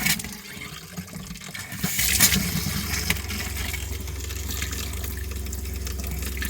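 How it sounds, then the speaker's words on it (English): Hot water running from a tap inside a Jayco Journey caravan fitted with a 12V pump and hot water unit, a steady rushing flow with a low pump hum underneath that starts strongly after a quieter opening. "run the hot water"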